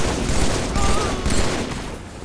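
Video game gunfire with rapid volleys of shots, bursts of automatic fire following one another in quick succession, while players talk over the action.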